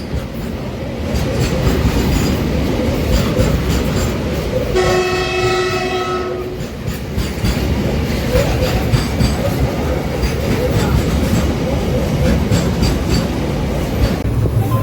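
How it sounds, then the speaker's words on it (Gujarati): A train rumbles past close by near Damnagar, Gujarat, with a steady, heavy roar and clatter. A long horn blast sounds partway through. "બાજુમાં ટ્રેન જોવો તમે"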